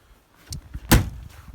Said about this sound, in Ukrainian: всі ручки, двері працюють, склопідйомники електричні